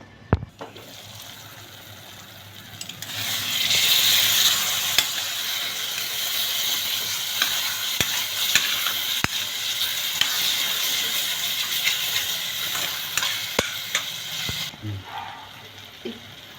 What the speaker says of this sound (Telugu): టమాటా ముక్కలు కొంచెం పెద్దగా కోసాను కదా, సో వాటిని స్మాష్ చేసేస్తున్నాను పొటాటో స్మాషర్ ద్వారా